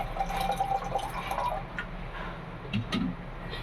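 Water is poured into a pot of wheat rava kichadi cooking with vegetables, a steady close trickle and splash running under a low background hum.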